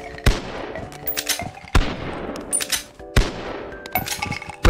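A massive weapon in the Bonelab VR game fires three heavy, booming shots roughly a second and a half apart, each followed by metallic clanks and rattles, with a fourth blast starting at the very end.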